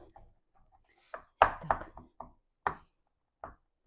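Cranberries chopped with a knife on a board while cooking chicken rolls, a few sharp irregular knocks spaced out over a few seconds with quiet gaps between.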